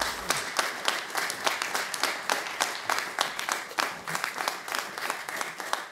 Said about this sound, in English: Please applause them.